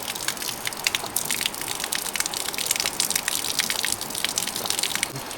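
Steady, loud rush of water pouring from a tap and splashing, a continuous gushing hiss with no talk over it.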